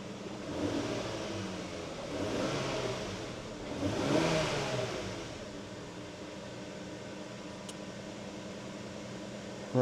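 A warmed-up 2000 Toyota Aristo 300V Vertex Edition engine is revved in a few swelling pulls from idle, each rise and fall of RPM close and clear before settling back to a steady hum.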